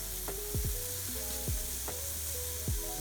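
Meat sizzles and crackles on a Manila street barbecue grill while being basted, a steady close hiss broken by several sharp spitting pops.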